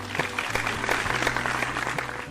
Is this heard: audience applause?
yes